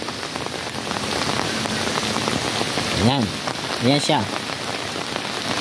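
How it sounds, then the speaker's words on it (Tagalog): Steady, continuous rain pouring down, a dense, even hiss filling the whole stretch, while a voice speaks briefly over it near the end. "Ito yung kaganapan dito habang tuloy-tuloy ang ulan dito."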